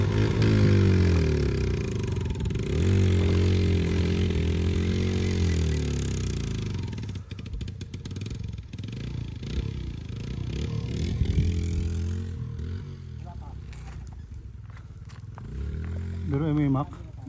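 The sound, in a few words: motorcycle engine straining uphill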